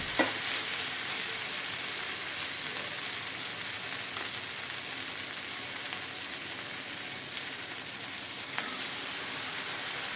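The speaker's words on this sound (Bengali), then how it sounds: "অল্প অল্প জল দিয়ে মশলাটা খুব ভালো করে কষে নিতে হবে" Spice paste with a little added water being stir-fried in a pan for a khoira fish curry, a steady soft sizzle and frying hiss running throughout with occasional small pops and stirring scrapes.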